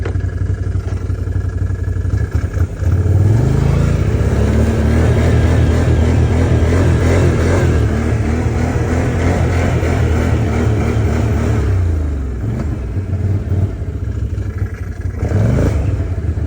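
A 2019 Can-Am Outlander 570 ATV in low gear revs hard for wheelies, its engine climbing and surging loudly and close for most of the stretch, dropping briefly before a final rev.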